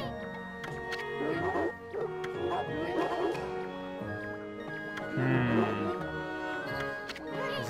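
Short dog barks and yips from the video game Okami, the player character a dog, set against game music with a voice talking over them.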